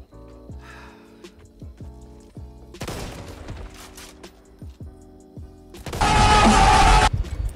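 Barrett .50 caliber rifle fire in the co-op shooter Back 4 Blood, a few sharp, heavy shots cutting through looping game music, with one loud burst near the end.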